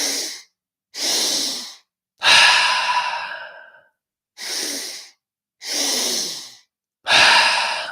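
Paced breathwork for mountain athletes: six deep breaths alternate between airy inhales and longer sighing exhales through the mouth, each about a second long with short silences between, close and clear with no talking.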